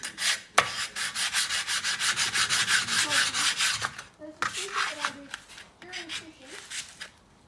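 A small piece for a play button is rounded by hand with sandpaper, giving close rhythmic rasping strokes, steady at first, then a pause and looser scrubbing while someone talks underneath.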